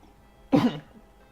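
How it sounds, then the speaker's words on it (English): A single short, sharp cough after drinking coffee, close and loud, with quiet before and after. "I've been doing this thing where I cough when I drink my coffee."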